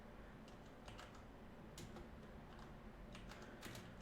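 Typing on a computer keyboard during a Python coding session, a quiet, steady run of light key clicks with a few louder bursts of taps, close and faint, with no voice.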